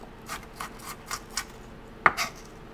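A knife chops onions for hamburgers on a board in a run of soft, evenly spaced cuts, quiet and close, ending with one sharper knock.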